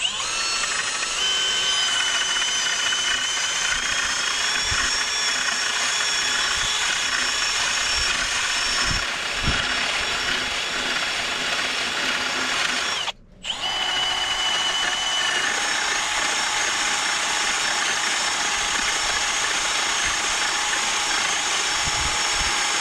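A power drill bores a through hole for a gate with a loud, continuous whine that holds steady. It cuts out for a brief moment near the middle, then resumes at the same pitch.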